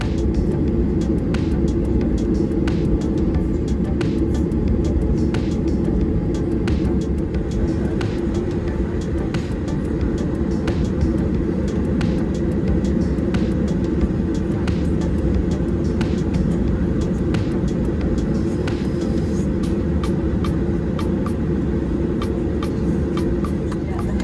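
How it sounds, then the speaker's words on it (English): Steady, loud low rumble of a jet engine idling as an American Airlines airliner taxis slowly to the gate after landing in Miami, with faint rattles and clicks throughout. "our plane began making its final way towards the gate"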